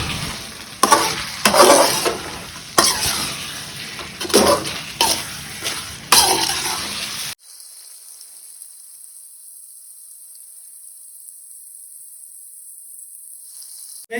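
Mint beef masala being stirred and fried in a pan, with loud bursts of scraping and sizzling in several strokes for about seven seconds, then only a faint steady hiss.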